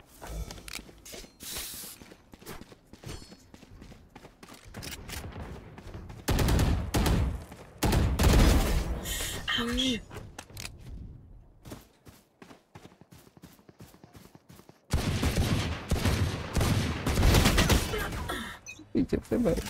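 Bursts of rapid gunfire from the tactical shooter game Valorant, loud broadband volleys separated by quieter gaps, with footsteps and a voice talking at points.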